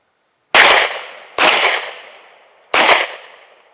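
Three sharp, loud gunshots on a shooting range during a drill, spaced about a second apart, each ringing out with a decaying echo.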